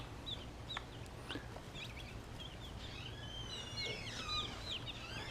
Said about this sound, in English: Got a little mixed batch of barnyard chicks.